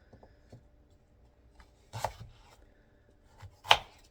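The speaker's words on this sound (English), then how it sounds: "cut these into chunks" A knife chops pumpkin into chunks on a board, with faint light taps and then two sharper, louder thwacks a second or two apart in a quiet room.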